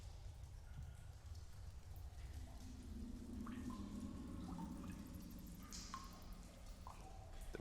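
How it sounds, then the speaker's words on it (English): Faint dripping and trickling water ambience of a dark dungeon, soft scattered drips and low running-water rumble, quiet and steady, with no voices present. "Why does it have running water?"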